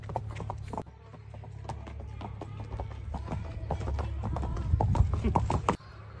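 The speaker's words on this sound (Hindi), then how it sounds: "रोबन घोड़ा का नाम रोबन है, सोना घोड़ा।" Hooves of a racing horse clip-clop in a quick, irregular rhythm at close range over a steady low rumble, with background talk and activity throughout.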